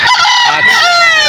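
A rooster crows loudly and close among chickens at the Malolos tiangge market, one drawn-out call with clucking fowl around it.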